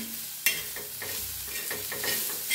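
Chillies and other thecha ingredients dry-roasting in a pan, stirred so a soft, steady sizzle rises with scraping stir strokes and light clatters, close up and with no talking.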